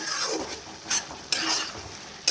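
A spoon stirs banana flower curry with ghee and sugar in a hot pan, soft sizzling under scraping strokes, with a few sharp metallic clinks against the pan, close and alone.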